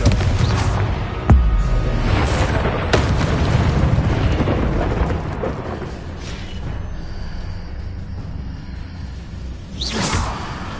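A Confringo fire curse blast in the Hogwarts Legacy video game goes off with a heavy booming burst and whoosh, followed by a rumbling tail and a further sharp hit near the end.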